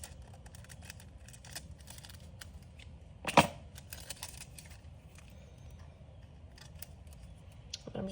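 A single quick snip of scissors cutting a small piece of craft material for a glittery floral bow badge reel, faint and close, with quiet room noise around it.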